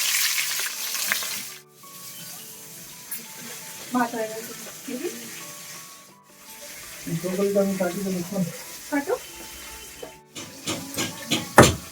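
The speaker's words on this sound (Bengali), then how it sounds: "এবার কিছু মাছ ভাজতে বসিয়ে দিই" Fish frying in a pan, giving a steady close hiss and sizzle throughout, with people talking over it at times.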